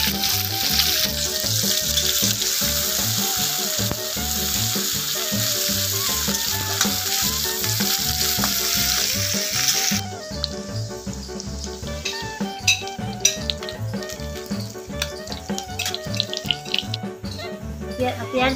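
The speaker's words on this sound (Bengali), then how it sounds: "পেঁয়াজটাকে ভেজে নেব।" Onion fries in mustard oil in a hot wok with a loud, continuous sizzle and crackle, interrupted by scraping stirs, and the hiss eases partway through.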